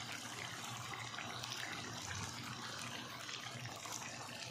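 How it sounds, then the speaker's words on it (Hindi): Water pours steadily into a mutton karahi being cooked dhaba style, a soft continuous splashing gush that stays fairly quiet and unbroken for a few seconds. "तकरीबन 1 गिलास के लगभग इसमें पानी शामिल करेंगे"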